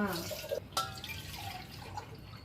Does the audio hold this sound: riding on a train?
no